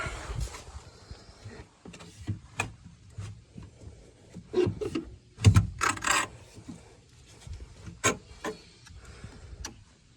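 A PEX water line is dragged bit by bit out of a Forest River Wolf Pup 17RP camper, making intermittent scraping and rubbing bursts with some louder grinding pulls between quieter pauses.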